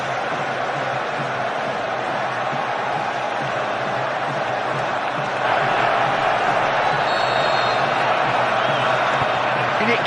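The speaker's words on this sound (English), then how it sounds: "thunderous now, the noise from the crowd at Wembley as Beckham prepares to take this free kick" A Wembley football crowd roars as David Beckham lines up a free kick for England against Croatia, a dense wash of cheering that swells louder midway through, with a commentator talking over it.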